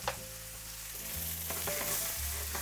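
Salmon fillet searing in a hot pan, a steady loud sizzle and crackle running throughout with a few brief clinks, no voices.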